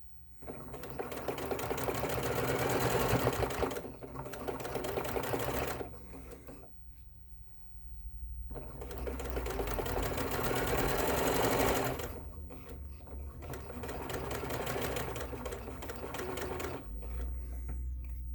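A sewing machine top stitches over elastic in several long bursts separated by short pauses, its fast needle chatter close and steady through each run.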